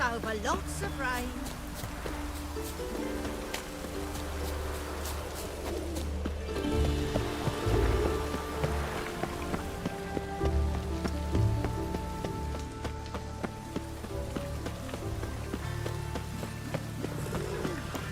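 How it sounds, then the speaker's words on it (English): Heavy rain pours steadily in the open-world fantasy game The Witcher 3: Wild Hunt, a dense continuous patter on surfaces with occasional footsteps and distant birds, while game characters talk over it. "Lots of fuss over lots of rain."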